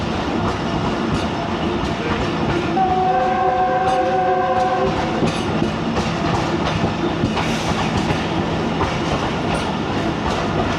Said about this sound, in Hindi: गग्गू रेलवे स्टेशन पहुंच गए हैं